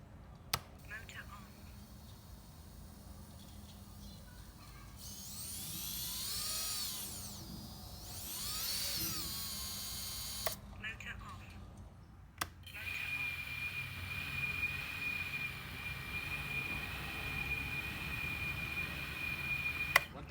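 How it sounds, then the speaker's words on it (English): Tiny BetaFPV 1204 5000kv brushless drone motor spun up in two whining bursts, a high smooth rising and falling tone, close and fairly loud, followed by quieter steady hum and background noise. "I'll shoot up a clip on how smooth these motors run."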